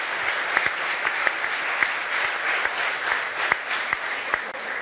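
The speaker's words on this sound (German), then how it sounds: "Einen großen Applaus bitte für Raphael Honigstein." Studio audience of a German sports talk show bursts into sustained, even applause, dense and continuous clapping filling the room for several seconds with no voices over it.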